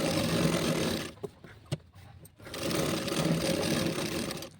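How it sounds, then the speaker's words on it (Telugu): Sewing machine stitching the lining onto a blouse, a steady fast whirring run that stops briefly for a few clicks and handling noises, then resumes at a close, moderate level. "ఇలా మొత్తం కూడా స్టిచ్ చేసుకోవాలి. నీట్గా ముడతలు ఏమీ రాకుండా చూసుకుంటూ స్టిచ్ చేసుకోవాలి."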